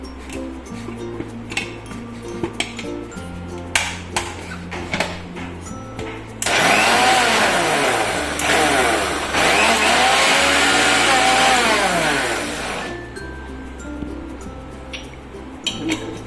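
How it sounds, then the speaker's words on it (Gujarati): A kitchen mixer grinder jar blends pani puri water ingredients with a little water, whirring loudly for several seconds before stopping. Quieter kitchen clinks and handling sounds come before and after. "પછી એમાં થોડું પાણી નાખી અને આપણે મિક્સર જારમાં એકદમ એક રસ થાય ને એવી રીતે આપણે પીસી લેશું"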